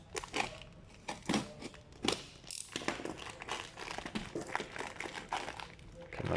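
Plastic packaging for vitamin B12 and antiseptic soap crinkles and crackles as it is torn open, in a dense run of irregular close rustles with no pause.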